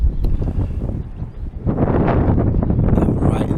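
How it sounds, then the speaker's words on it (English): Bitter wind buffets the microphone in a small coastal bay on Anglesey, a continuous loud rumbling roar that swells and gusts throughout without letting up. "I can't get out of the wind. It's just coming straight down"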